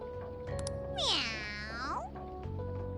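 A cat meows in the video game Persona 5 Strikers, one drawn-out rising and falling meow over a soft game background with faint tones, a second short sound after.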